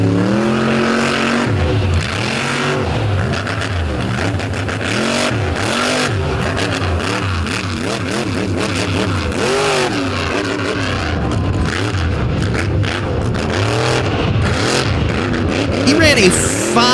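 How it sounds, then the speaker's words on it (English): A 540 cubic inch race engine with zoomie headers, rated around 1300 to 1400 horsepower, rolls out at an Indy event with a loud, crackling, cackling rumble that rises and revs steadily, heard up close alongside an announcer's voice throughout. "Jr. rolls out now with the cackle of the Zoomies. 540 cubic inch power plant in this one."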